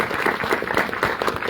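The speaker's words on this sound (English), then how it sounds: "Give a round of applause for all the candidates." Audience applause for local debate candidates in Athens, a steady, full wash of clapping from a crowd that holds at even loudness without a break.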